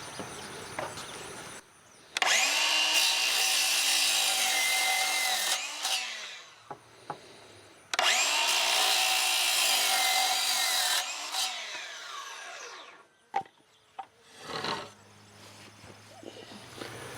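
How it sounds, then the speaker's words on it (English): A power saw cuts a wooden board to length for a hoop chicken coop in two long, loud bursts of several seconds each, with some clattering and handling noises between and after the cuts. "So we need to cut this board at 6 foot 9 inches."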